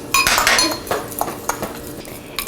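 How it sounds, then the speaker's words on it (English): Utensils clink and scrape against a bowl as chopped garlic and condiments are mixed for Mexican barbacoa, a series of close, bright chinks and taps in an irregular rhythm. "We're mixing well."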